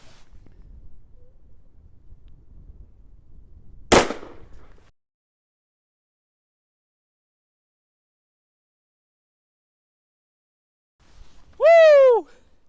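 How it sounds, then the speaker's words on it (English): A single sharp gunshot from a Taurus Raging Hunter revolver firing a Smith & Wesson 460 round, loud and abrupt against outdoor wind noise, followed by silence and a later whooping shout. "We're gonna be shooting another round out of this gun, so we'll see how that does."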